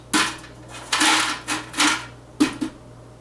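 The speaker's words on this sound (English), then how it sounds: "put in some ice." Ice cubes drop into a cocktail glass for a Sex on the Beach drink, several sharp close clinks and rattles in quick irregular succession, then falling quiet.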